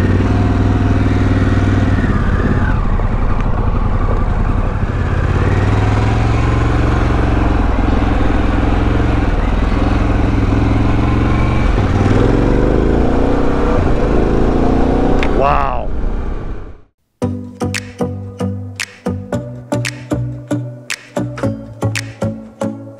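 A Harley-Davidson Pan America adventure motorcycle runs loud and steady with rising and falling engine tones, then cuts out briefly before a series of sharp clattering bursts follow near the mic.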